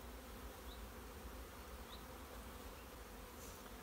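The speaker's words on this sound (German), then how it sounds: "Da sammeln sich jetzt gleich ganz viele Pflegebienen an. Also die Gasse wird quasi voll mit Bienen." Nurse bees crowding into a gap in a hive box during queen rearing, a steady, dense buzzing hum of many bees close by with no talking.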